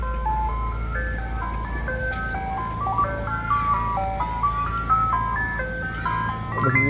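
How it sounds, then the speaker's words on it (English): An ice cream truck plays its chiming tune continuously, the bright melody stepping up and down over a steady low engine rumble, fairly close and loud throughout. "it's the same ice cream truck guy that I had a conversation with about changing that music"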